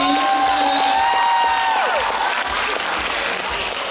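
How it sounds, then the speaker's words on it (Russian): An audience applauds the performers at the finale of a staged Alice in Wonderland production, with loud, dense clapping and scattered cheers filling the hall while a high whistle or musical tone rings above it. "Пожалуйста, аплодисменты."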